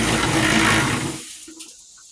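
An old Harbor Freight concrete mixer churns wet concrete with a loud, washy, sloshing roar for about a second before cutting off abruptly, leaving near silence with a faint clink.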